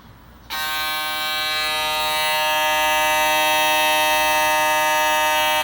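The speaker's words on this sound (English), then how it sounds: "So you can hear that vector motor in there." An Instinct electric shaver with two foils and a vector motor spinning at about 11,000 RPM switches on after a moment of quiet, then runs with a steady, close, high-pitched whine that holds to the end.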